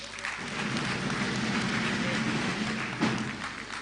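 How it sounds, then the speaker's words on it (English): Audience applause after a governor's second-term inauguration lecture, a steady, dense wash of clapping from a hall crowd lasting throughout, with a brief louder swell near the end and some murmuring underneath. "I think Professor Otto Basiakpan deserves another very big round of applause."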